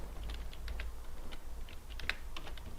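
Keys on a computer keyboard are tapped to enter a Linux command, producing close, quick irregular clicks over a steady low background hum.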